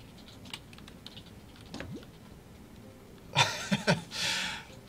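Fingers tap a computer keyboard quietly, with a few scattered clicks followed by a quick burst of keystrokes near the end, and no one speaks.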